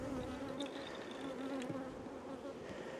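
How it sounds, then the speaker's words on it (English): Buckfast honey bees swarm around an open hive during an apiary inspection on a hot day, a steady close humming buzz with individual bees droning past, no voices. "Super orange bees, these ones."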